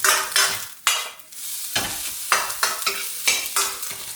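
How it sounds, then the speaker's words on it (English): Soy sauce fried rice tossed and stirred in a sizzling pan, bursts of loud frying hiss with rhythmic scrapes every half second or so, close up and with no talking. "Quick stir and mix well."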